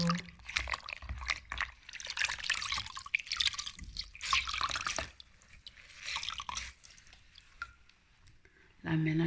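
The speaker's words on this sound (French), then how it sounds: "Je mets maintenant la serviette qui est là, que je vais tremper maintenant" A towel is dipped and soaked in a bowl of lukewarm water, giving close, intermittent splashes, drips and squishy wringing sounds in uneven bursts.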